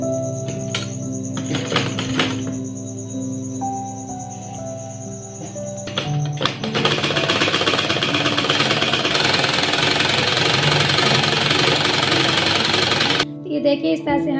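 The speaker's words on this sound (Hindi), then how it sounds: "इस तरह से रखते हुए हमें यहाँ से किनारे किनारे सिलाई लगा लेनी है।" A sewing machine stitches along the edge of a child's shirt. Quieter humming and clicks come first, then the machine runs in a steady, close, continuous whir for about seven seconds before stopping.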